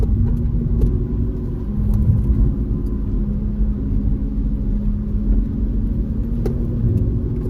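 A Tata Altroz car drives along a winding mountain road, giving a steady, loud interior engine and road rumble with a low hum that stays constant throughout.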